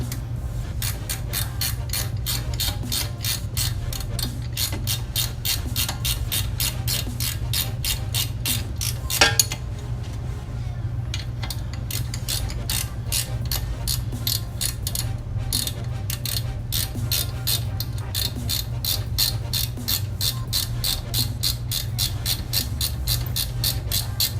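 A ratchet wrench snugging up the brake caliper bolts on a 2006 Toyota Highlander Hybrid in a shop, with steady fast clicking that runs on continuously and close by, alone with no talk.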